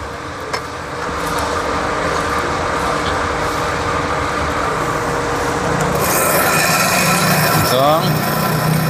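A motorcycle camshaft's edges are smoothed by hand, making continuous rough rubbing and rasping like filing. The scraping is close and steady and grows harsher near the end.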